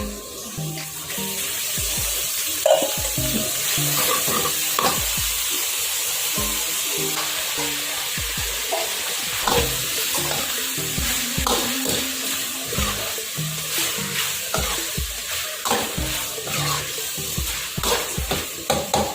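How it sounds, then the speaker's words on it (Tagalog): Pork meat and pig ears are sautéed in a pan for dinuguan. The close, steady sizzle runs under frequent stirring scrapes and clatter, and a watery, sloshing texture comes through at times. "Habang ginigisa po natin, ilagay na po natin yung tatlo kong laging nilalagay."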